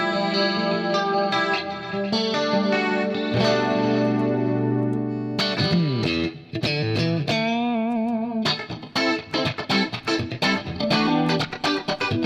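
Electric guitar through a Fractal preset on its clean channel, modeled on a Custom Audio clean amp, with chorus and echo effects: ringing sustained chords and bright single notes, then quicker picked phrases and plucks, played alone.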